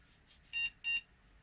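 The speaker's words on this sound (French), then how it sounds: "Deux bip bip, ça me paraît pas mal." A computer motherboard on a small GPU mining rig with four GTX 1050 cards gives two short electronic startup beeps in quick succession, clear and close, with a faint hum behind them.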